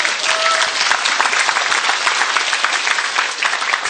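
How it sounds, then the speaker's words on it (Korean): Audience applause during a business seminar talk, a dense, steady wash of many hands clapping at once, loud and close, sustained evenly throughout with no voices over it. "박수 한번 칠까요?"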